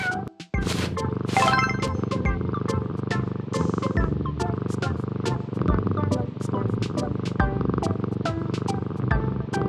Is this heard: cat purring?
yes